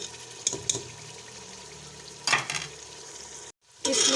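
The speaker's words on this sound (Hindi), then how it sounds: "शलजम को हमने 5 मिनट मसाले में अच्छी तरह फ्राई कर लिया।" Turnips frying in spice masala for shaljam chicken, with a steady sizzle broken by a few loud clattering stirs of a utensil against the pan and a brief moment of silence.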